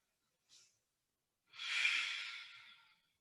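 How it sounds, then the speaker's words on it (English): A short sniff, then a long, deep inhale during a yoga class, airy and close, swelling and fading over about a second and a half with silence around it. "Take a big breath."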